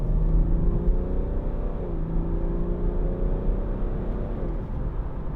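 A 2014 BMW 430d Gran Coupe with its 3.0 diesel accelerating hard up a dual carriageway, a steady loud engine drone rising in pitch through one gear change, with deep road rumble heard from inside the cabin.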